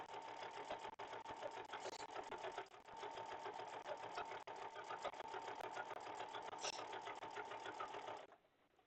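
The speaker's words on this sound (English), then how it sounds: "I'm going to tuck about just to the front of my machine here, sew up to my hands, and then tuck some more" A sewing machine stitches binding onto a quilt in a steady, fast, close mechanical whir that runs almost without a break for eight seconds, then stops.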